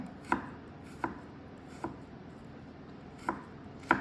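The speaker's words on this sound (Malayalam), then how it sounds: "ഇത് നമുക്കൊന്ന് ചെറുതായിട്ട് അരിഞ്ഞെടുക്കാം ഇഞ്ചി ആയാലും കുരുകുരാന്ന് അരിഞ്ഞെടുക്കുക" Knife chopping onion and ginger finely on a board for wheat uppumavu, five sharp, separate cuts spaced irregularly over a quiet background, with no voices.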